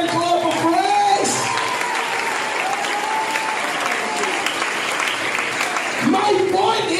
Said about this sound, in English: can we give a hand clap of praise?